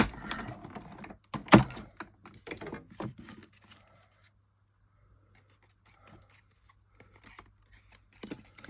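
Scissors snip out paper pieces for a craft collage: a handful of sharp, close cuts and rustles in the first few seconds, then near silence with faint, sparse handling noises.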